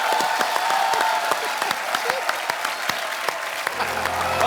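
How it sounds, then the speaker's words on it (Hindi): A studio audience at a Hindi comedy talk show breaks into dense, sustained applause, loud and close, with many hands clapping steadily for the whole stretch and faint crowd voices mixed in. "तालियां।"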